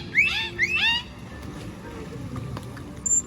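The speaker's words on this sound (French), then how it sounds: "Et les dauphins vont aussi avoir ce qu'on appelle un sifflement signature." Dolphin signature whistles at a marine park show: a few quick rising, looping tonal whistles in the opening second, then a low murmur of crowd and water with a faint high tone near the end.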